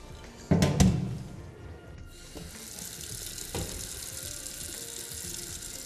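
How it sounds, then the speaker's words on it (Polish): Sauerkraut cabbage rinsed under a running kitchen tap, a steady splashing water flow that starts with a couple of louder bursts, then settles into continuous running water. "Kapustkę przepłuczemy, ponieważ nie każdy lubi taką kwaśną"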